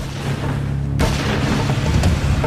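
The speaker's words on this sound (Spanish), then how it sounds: "Sonaron 2 disparos de un Magnum 357." Two Magnum .357 revolver shots: a sudden heavy boom breaks in about a second in, over a dense, rumbling background, with a second sharper crack shortly after.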